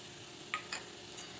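A soft sizzle of potatoes, peanuts and chili powder frying in oil while being stirred, with a couple of small clicks of the spoon against the pan, quiet and close.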